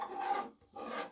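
Scissors cut through blouse fabric in two short, close rasping strokes separated by a brief pause, with no talking.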